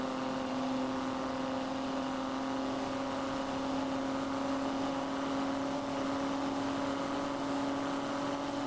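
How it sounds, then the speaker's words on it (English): A Kenworth semi truck engine in American Truck Simulator drones steadily and loudly, a continuous heavy rumble with a sustained tonal hum and no break. "Thing has a monstrous sounding engine in it."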